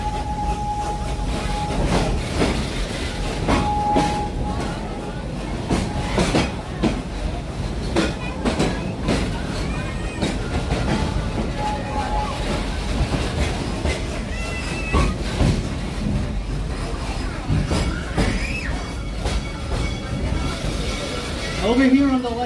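The Serengeti Express amusement park train at Busch Gardens Tampa rolls steadily on its rails with rhythmic clacking and rattling, brief squeals here and there, and voices talking over the ride.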